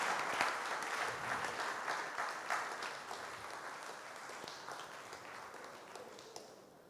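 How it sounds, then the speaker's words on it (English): An audience at an archdiocesan synod event claps steadily for several seconds, a dense, even wash of applause that fades slightly toward the end. "Give them a round of applause."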